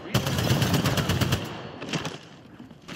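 Rapid automatic gunfire from the Apex Legends video game, a dense burst of close, loud shots rattling for about a second and a half, then scattered further shots trailing off.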